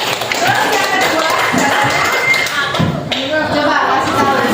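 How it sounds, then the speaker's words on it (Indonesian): Schoolchildren clap their hands together in a primary classroom during a coding and AI lesson, a dense, ragged patter of many claps that fills the room, with voices underneath. "Ya, oke, tepuk tangannya."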